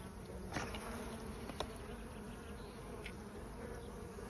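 Steady, dense buzzing of many honey bees close by at an open hive, a continuous drone with occasional louder passes.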